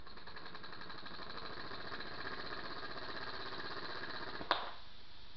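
Small shop-built steam engine with a combined pulley and flywheel, running at about 10 pounds pressure: a rapid, even chuffing beat close by, ending with a sharp knock as it stops.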